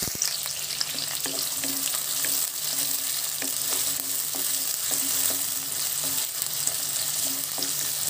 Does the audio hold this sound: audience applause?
no